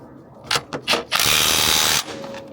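A wrench works the top bolts on Honda coilovers from MaxSpeedingRods, with a few short ratcheting bursts followed by a loud, continuous mechanical whirring that runs close for about a second, then stops.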